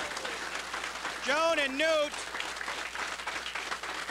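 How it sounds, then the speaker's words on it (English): Audience applause on the campus of Northwestern College in Orange City, Iowa, a steady roar of clapping that runs the whole time beneath a voice speaking briefly over it. "that thunderous applause you're hearing is coming from the campus of Northwestern College here in Orange City, Iowa"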